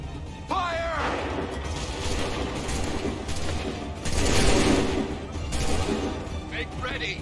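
Musket volleys fired on command in Assassin's Creed 3, heard as bursts of massed gunfire amid battle noise with shouted orders and voices over a continuous din.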